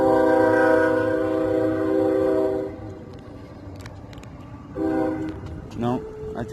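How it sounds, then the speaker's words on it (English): A train passes beneath a bridge with a long, loud horn blast. The wheels rumble steadily underneath, then the horn sounds again briefly in the distance. "we might get to see a train go underneath of us"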